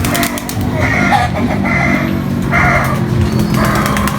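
Pigeons in a loft coo in soft, repeated bursts, with wing flaps and rustling nearby and a steady low background hum.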